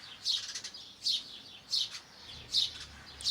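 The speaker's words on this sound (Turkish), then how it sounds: "Kuşlar da geldi." Birds chirping outdoors in short bright bursts, five quick clusters of tweets at a fairly even pace, fairly close and clear.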